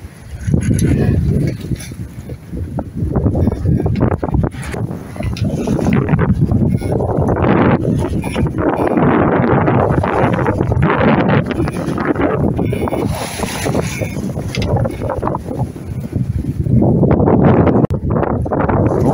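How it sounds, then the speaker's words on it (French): Strong wind buffets a sailing boat at sea off Tahanea, near a lagoon pass, roaring and gusting continuously across the microphone with rushing water beneath. "Un peu plus de vent."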